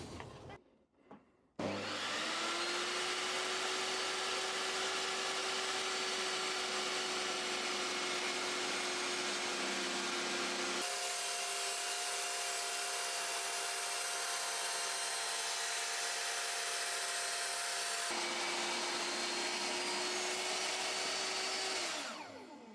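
A Rutlands R1618 table saw rips through inch-thick hard maple, its loud steady motor whine running alone for about twenty seconds, with the pitch shifting as the blade takes the load mid-cut.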